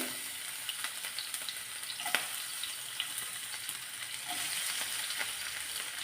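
Ginger, garlic and onion sauté steadily in ghee, a continuous close sizzle broken by occasional scrapes of a spoon against the pan.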